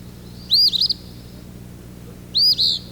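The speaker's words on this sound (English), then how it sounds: "It is an eastern phoebe" An eastern phoebe sings its burry, buzzy phrase twice from a perch in a backyard, each phrase clear, fairly close and about two seconds apart over quiet background hum.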